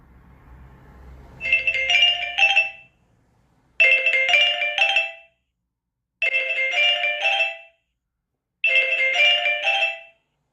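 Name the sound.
mobile phone ringing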